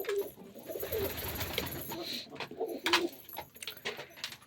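Pigeons coo softly at close range in a quiet room, low repeated calls mixed with faint light pecking and small rustles as a chick takes grain.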